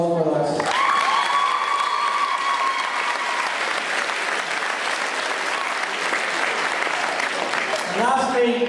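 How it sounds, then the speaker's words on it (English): Loud crowd applause and cheering at a homecoming for a boys' under-16 basketball team that won an All-Ireland title: sustained clapping with whoops and shouted voices, close and full, continuing for several seconds. "deserve a round of applause for that"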